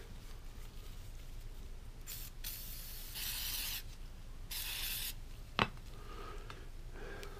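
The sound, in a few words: spraying glue accelerator on Buck 110 knife scales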